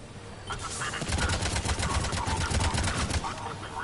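Heavy gunfire erupts in a Mass Effect 3 firefight as Cerberus forces attack near a landing area, with rapid automatic bursts loud and dense across most of the stretch and background combat noise throughout.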